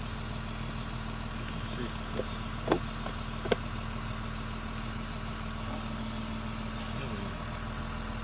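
An abandoned RV's engine idles steadily in drive, a constant low rumble running the whole stretch with a couple of sharp clicks or knocks, while a voice speaks briefly.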